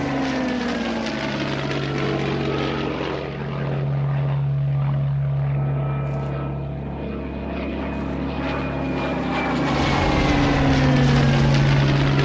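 A Heinkel 111 propeller bomber passes overhead, a loud sustained engine drone with a steady low hum and sweeping pitch shifts as the aircraft approaches and moves away.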